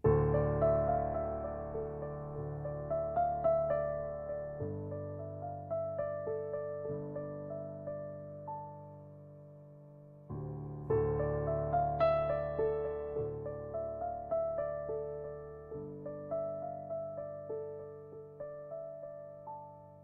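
A solo piano piece played at a moderate pace, with sustained low notes under a melody; it pauses briefly near the middle, then resumes with a similar phrase.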